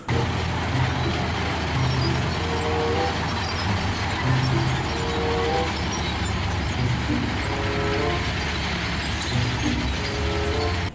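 A red toy cement carrier truck gives off a steady, busy mechanical whir and clatter with faint rhythmic clicks, continuous and fairly loud throughout, with no talk over it.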